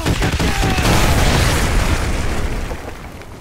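Heavy artillery strike explosions in Call of Duty Modern Warfare 2, one deep booming blast rolling into a long rumbling decay, loud and near, with no voices.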